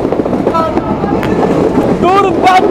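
The Kapotaksha Express, a broad gauge train, runs with a steady rumble and rattle of wagons, a few brief squeals rising above the noise, with rain outside and a voice talking briefly.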